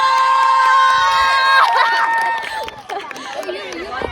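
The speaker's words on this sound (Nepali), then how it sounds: "त हुटिङ देऊ न स्टारको लागि।" A crowd at a school sports race shouts and cheers in a loud, sustained burst of hooting, then breaks into scattered voices and chatter.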